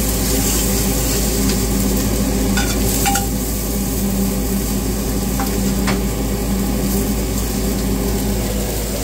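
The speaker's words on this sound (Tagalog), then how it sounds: "Pinipisa na po natin yung sibuyas, kamatis, ginger, garlic" Onion, tomato, ginger and garlic sauté in a pan for beef bulalo, a steady close sizzle and frying hiss with occasional stirring scrapes, continuous and loud throughout.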